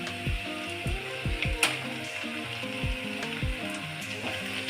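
Banana stem stir-fry with peanuts being stirred in a pan: repeated scraping strokes and clattering over a steady sizzle, close and moderately loud.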